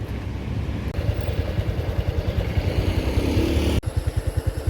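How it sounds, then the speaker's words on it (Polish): A motorbike engine idles with a steady, rhythmic low chug, loud and close, in Thai jungle near Thong Pha Phum, briefly cutting out near the end before the thumping resumes. "Dobra, przywieźli mi motorek, ruszam."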